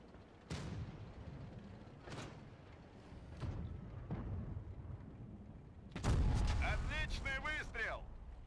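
Tank cannon shots in World of Tanks from an IS-2-II tier grind, several heavy booming blasts spaced seconds apart, the last one loudest and followed by a crew voice calling out over the rumble.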